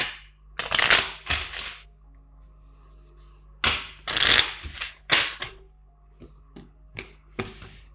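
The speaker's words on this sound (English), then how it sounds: "Let's shuffle three more times and let's start with the current energies." Tarot cards are shuffled in close, crisp bursts of riffling and flapping, three main rounds separated by short pauses, with lighter taps and slides between them and no talking.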